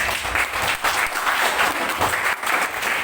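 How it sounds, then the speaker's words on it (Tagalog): A church congregation claps loudly and steadily for a few seconds, a dense continuous wash of applause with no voices on top. "Kusog na palakpak sa Diyos"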